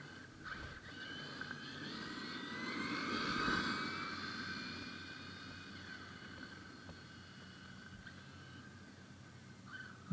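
High-pitched nitro engine of an HPI Trophy 3.5 RC car whining as it approaches and passes, rising then fading, with no talking.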